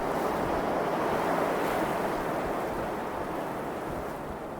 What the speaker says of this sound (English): Windy in this game